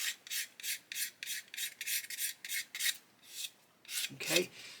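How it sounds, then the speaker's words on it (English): Sandpaper works the seam of a 1/72 Airfix Hurricane Mk.1 plastic model in about a dozen close, rhythmic rasping strokes, steady and evenly spaced, with a final louder scrub. "So sand away from the top, sand away from the bottom"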